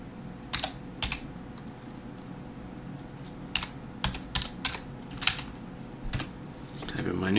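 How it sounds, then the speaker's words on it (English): A password being typed on a computer keyboard, heard as sparse, distinct keystrokes clicking at an uneven pace, some in quick pairs. A quiet room hum sits behind them, and a rustle swells at the end. "So I type in the old password one more time."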